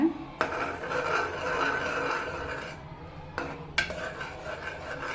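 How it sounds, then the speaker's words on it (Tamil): A spoon stirs spinach curry in a pan after salt, sambar powder and asafoetida go in, making close scraping and rubbing strokes with a few sharper knocks against the metal. "தேவையான அளவு உப்பு சேர்த்து நல்லா மிக்ஸ் பண்ணி விட்டுக்கோங்க"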